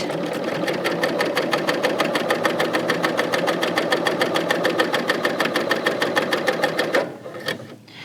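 A Bernina L890 serger stitches steadily along denim from one edge to the other, a fast, even mechanical chatter held at a constant loud level for about seven seconds before it stops and slows away.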